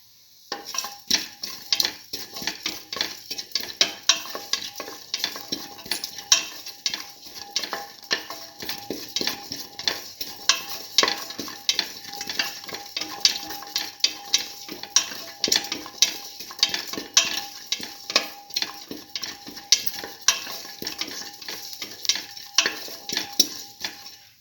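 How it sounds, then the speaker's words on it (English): Ingredients for a tomato split pigeon pea wrap filling sautéed in a pan: a continuous run of close, rhythmic spoon scrapes and clinks against the metal, with light sizzling underneath. "Saute."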